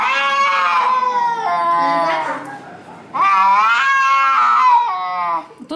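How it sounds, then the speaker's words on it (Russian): Loud, drawn-out yowling and wailing from cats squaring off, two long bouts of harsh caterwauling separated by a brief lull. "У нас тут разборки кошачьи."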